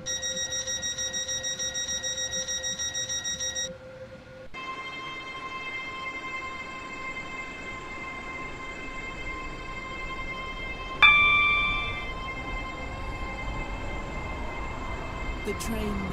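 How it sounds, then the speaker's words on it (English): A train pulls into a platform on Stepford County Railway in Roblox, with a steady electric hum, a brief pause, then a new tonal whine and a sharp chime-like burst as it stops, continuing under the drone. "The train now approaching platform 9 terminates here."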